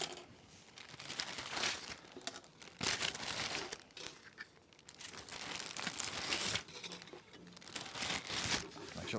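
A resealable plastic bag crinkles and rustles in uneven bursts as model kit parts are packed into it, fairly quiet and close, with someone talking at times.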